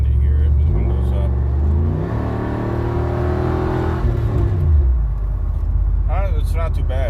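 Chevrolet F-body car heard from inside the cabin with the windows up, its engine and exhaust a low rumbling drone that rises and falls as it revs, with a voice speaking briefly near the end.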